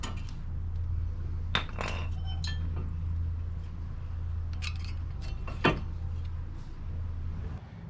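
Metal brake pads clinking and scraping as they are pulled from a 2005 Toyota Corolla front brake caliper, a few sharp scattered clanks over a low steady hum in a quiet garage.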